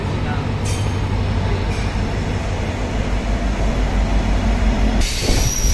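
A passenger train departs Mysuru Junction, a loud continuous rumble of wheels on rails with brief high squeals, close by, with a voice talking over it.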